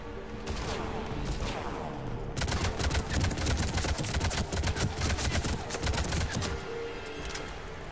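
Rapid gunfire from the video game Mass Effect 3: dense bursts of automatic shots and loud impacts fill the scene, close and sustained, with a brief quieter lull near the start and a fade toward the end.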